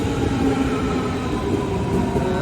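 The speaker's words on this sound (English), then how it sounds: "My train is here." A train pulls into a station platform in Germany, a steady loud rumble of wheels and carriages running throughout, with no talk over it.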